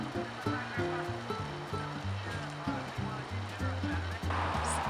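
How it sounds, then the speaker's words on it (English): Heavy rain pours outside in a front yard as a continuous loud hiss, while a person talks over it throughout. "It is totally pouring."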